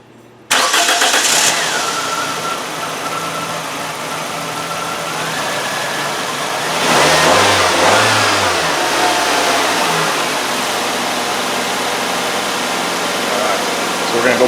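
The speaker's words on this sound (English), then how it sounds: "I'm gonna fire this junker up" A Nissan Sentra engine with an EGR system malfunction cranks and catches, settles into a rough idle, then revs up hard before dropping back to a steady run.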